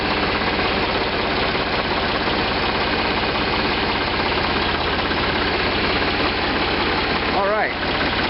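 A Ford 3600 40 hp tractor engine idling up close, a loud, steady knocking diesel throb with constant vibration and no letup, while someone talks over it briefly near the end.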